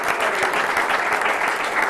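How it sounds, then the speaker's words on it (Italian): A studio audience applauds the captain of the Tonazzo volleyball team at a Veneto sports broadcast, steady dense clapping filling the whole stretch at close range with no voices over it. "Un applauso a Mattia."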